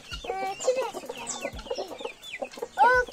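A guinea fowl hen and her chicks cluck close by in a short burst of soft, irregular clucks and peeps, with a louder call at the end.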